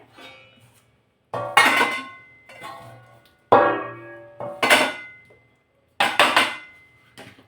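A til gul ladoo mixture of sesame, jaggery and peanuts is stirred and scraped into a metal plate, giving several sharp metallic clangs and scrapes in separate bursts with short pauses between them.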